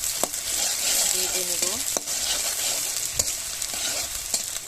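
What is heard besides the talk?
chopped onion frying in hot oil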